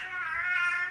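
A child screeches in a high, wavering, cat-like wail, one sustained cry of about a second, moderately loud and not close, with no talk over it.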